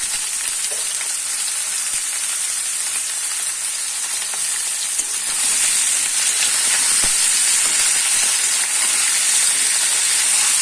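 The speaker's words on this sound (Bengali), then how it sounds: "প্রথমে কড়াইতে আমি তেল দিয়ে দেবো। কড়াইতে আমি তেল দিয়ে দিয়েছি। এবার এক এক করে আলু আমি ভেজে" Potatoes fry in hot oil in a wok, giving a steady, loud sizzling hiss that runs throughout and grows a little stronger toward the end.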